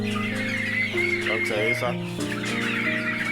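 Nearly three-month-old turkeys on a farm make overlapping gobbling and clucking calls up close, mixed with a person speaking French.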